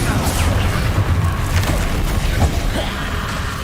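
The Confringo fire-blast spell in Hogwarts Legacy explodes as a loud, rumbling boom that fills the space with a sustained crackling roar, and a voice briefly sounds underneath.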